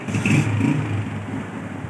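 A motorcycle engine idles outdoors nearby, a steady low mechanical hum with a brief rise in revs at the start.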